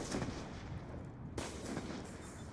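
Gunfire rings out in a first-person shooter video game as shots punch through a wall, a dense, heavy burst of loud rapid reports that cuts in suddenly and continues with no talk.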